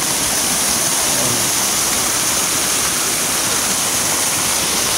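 Mahogany Falls, a small waterfall in Trece Martires, Cavite, pours with a loud, steady rushing roar of falling water. It sounds close and continuous, and no one speaks over it.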